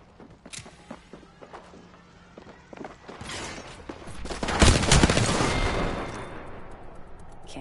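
Gunfire in the battle-royale shooter Apex Legends: scattered sharp shots and clicks at first, then a dense loud burst of firing swelling near the middle and trailing off into rumble.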